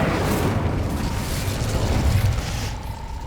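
A fiery Incendio spell cast in Hogwarts Legacy, a dense roaring whoosh of flame that stays loud and steady through the whole stretch, with no talking over it.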